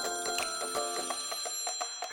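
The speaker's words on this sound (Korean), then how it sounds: "선생님은 알람 소리는 핸드폰으로" A looping alarm tone plays from a mobile phone, a bright repeating chime pattern with steady pulses that rings continuously and fairly loud, with no talking over it.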